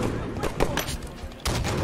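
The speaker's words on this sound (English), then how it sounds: "My pistol is literally decimation." Pistol fire in a multiplayer shooter video game: a quick series of sharp shots in uneven succession, fairly close, with a louder burst near the end.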